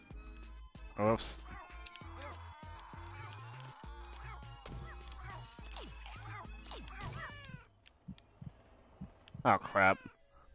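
In the video game Russian Subway Dogs, a cat character gives a couple of short, bright meows, one near the start and another near the end, amid game music and effects, with a player talking over much of it.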